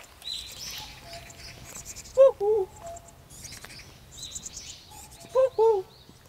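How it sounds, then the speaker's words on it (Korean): Two short two-note cuckoo calls ring out a few seconds apart, fairly distant, over quiet outdoor ambience with faint chirping, in Hongseong, South Chungcheong Province, South Korea. "뻐꾸기가 반갑게 소리를 내네요."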